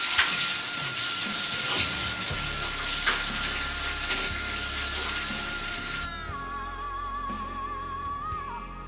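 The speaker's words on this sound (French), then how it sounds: "On va juste faire sauter un peu l'oignon." Onion sautéing in a frying pan gives a steady, close sizzle that runs without pause, with a faint stirring and scraping texture and a thin tonal hum over the hiss.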